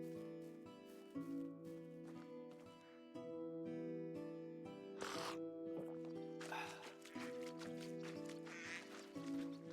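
Ducks quacking in the medieval farming game Medieval Dynasty, with several distinct quacks over game music, moderately quiet and spread across the scene, with no talk.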